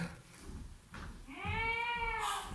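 A cat gives one drawn-out, tonal meow at close range, rising and then falling, heard alone after a few seconds of quiet room noise.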